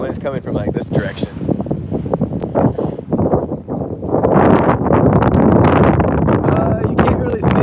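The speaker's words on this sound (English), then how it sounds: "It's so windy." Strong wind off the ocean buffets the microphone in loud, rough gusts that grow more constant toward the end, with a person talking underneath.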